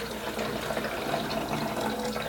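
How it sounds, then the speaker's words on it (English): Water is poured into the rear reservoir of a drip coffee maker, a steady close-up splashing and filling stream running without pause for a couple of seconds. "Water goes in the back there."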